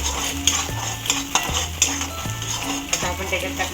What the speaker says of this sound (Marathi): आपण थोडं लसूण आणि आलं टाकणार. ते पण आपण याच्यात फ्राय करू.